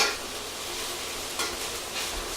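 Steady sizzling and soft stirring of vegetables with soy sauce cooking down in a pan, a continuous close hiss with faint utensil scrapes.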